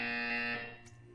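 A buzzer in the video game Portal 2 gives one short, loud electronic tone that cuts off and decays within about a second.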